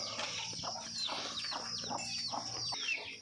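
Several chickens clucking and calling close by inside a farm coop, a steady busy stream of short squawks over a constant low hum.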